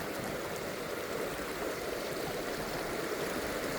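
A dog wades through a river in a nature reserve on a walk; steady, broadband rushing of flowing water fills the whole clip at an even level, with no voices.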